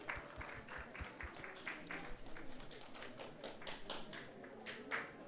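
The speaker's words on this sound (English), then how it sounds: "let's give them a big round of applause" Audience applause at a Sunday feast talk in a temple hall, scattered claps building into a sustained patter of many hands, quite faint and distant, with low thumps early on.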